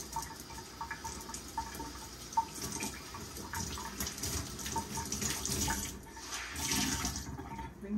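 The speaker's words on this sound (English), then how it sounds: "Then you take your tea towel and you get it all completely wet." A tea towel soaked under running tap water, a faint steady trickle with soft splashing and a few drips, close but quiet, without voices.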